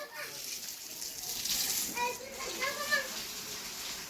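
Water pours and splashes in a steady rush at a house under construction, with voices of adults and children talking nearby over the flow.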